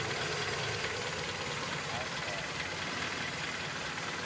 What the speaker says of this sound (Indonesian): Idle rendah, karburator masih ori, masih bagus. Idle rendah masih oke ini.